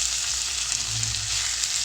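Onions fry in a pan for sago khichdi, giving a close, constant bright sizzle with no pauses.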